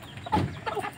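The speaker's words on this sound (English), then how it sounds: "I just feeding my chicken" Chickens of the Aseel and Burmese breeds cluck at early-morning feeding time on a farm in Cianjur, West Java, with a couple of short nearby bursts of clucking and no talk.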